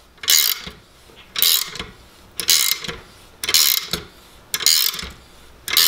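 A plus nut setting tool tightens a threaded blind insert with about six evenly spaced ratcheting cranks, each a loud, close, clicking mechanical burst separated by brief pauses.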